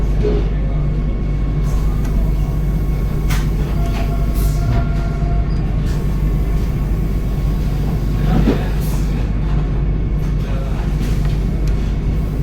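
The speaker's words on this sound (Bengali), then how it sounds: "টাটানগর থেকে ট্রেন ছেড়ে দিয়েছে" A Vande Bharat Express train running after departing Tatanagar, heard from inside the carriage as a loud, steady low rumble of wheels and motors with occasional brief clanks and rattles.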